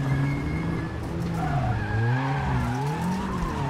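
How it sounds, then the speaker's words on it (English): A WRC7 rally car spins out on a damp stage at Rally France after a light handbrake tap, tyres squealing in long wavering tones over a steady engine drone, close and continuous with no talk. "that's just a tiny tap of the handbrake, and in these damp conditions, that just spun me around"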